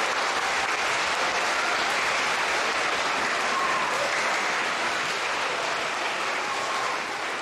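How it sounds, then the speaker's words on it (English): Sustained applause from a school audience honouring veterans at an elementary school Veterans Day program, a dense, steady wash of clapping that fills the whole stretch at even loudness with no voices on top. "Let's give one more round of applause for our veterans in attendance today."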